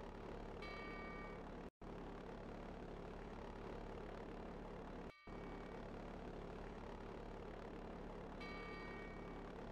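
A propeller airplane engine drones steadily in flight within the video game Second Life, a continuous hum heard alone with two brief dropouts.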